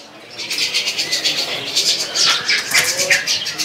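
A caged Javan pied starling in a kiosk at Pramuka market gives a steady run of loud, close chirps and calls over a busy background.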